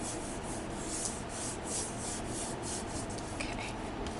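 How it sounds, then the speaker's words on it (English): A thin polymer clay sheet is burnished flat and smooth with steady, close rubbing strokes, a soft continuous scraping hiss with gentle rhythmic swells. "I'm just going to quickly burnish this to make sure it's nice and flat and smooth and such."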